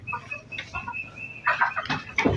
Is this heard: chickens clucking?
yes